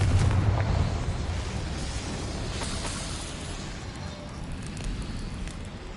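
A fiery Confringo spell explosion in Hogwarts Legacy, with a roaring, crackling burst that swells at the start and then fades into a sustained rumbling blaze.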